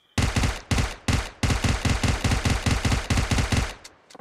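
Bursts of automatic gunfire from a PUBG Mobile match, loud and close, fired in about seven rapid strings separated by short pauses, with one or two faint trailing shots at the end.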